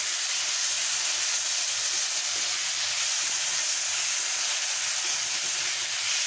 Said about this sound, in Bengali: দিয়ে এটাকে আমি যতক্ষণ না টমেটোটা ভালো করে মজে যায় ততক্ষণ এটা আমি কষে নেব।